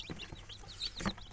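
Newly hatched chicks just out of an incubator give several quick, high, thin peeps in a short irregular burst, close by and fairly soft.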